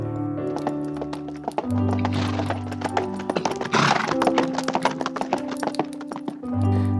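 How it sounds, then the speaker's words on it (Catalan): A horse's hooves gallop in a fast, steady clatter of clip-clops, with sustained musical tones underneath and a brief rush of noise midway. "va agafar el seu cavall i es posà a galopar bosc enllà"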